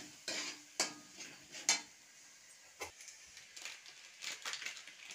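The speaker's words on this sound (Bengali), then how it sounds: "আর পরিমাণ মতো হলুদ দিয়ে আবার একটু নাড়িয়ে নিচ্ছি" A spoon scrapes and stirs ghugni with turmeric in a pan, making several sharp metallic clinks and scrapes with soft sizzling between them, close up and without talk.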